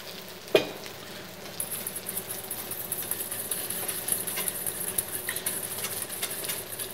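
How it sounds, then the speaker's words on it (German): Oil goes into a salad dressing of mountain salt, pepper, lime and lemon juice, whisked steadily into an emulsion; a sharp clink opens a busy, soft stirring patter that runs on close by. "Und jetzt zum Schluss geben wir erst das Öl dazu."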